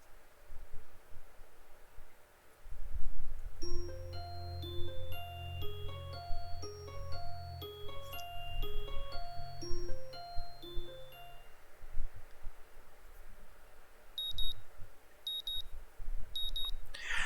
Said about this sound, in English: My morning alarm goes off, and I flail about uselessly for a while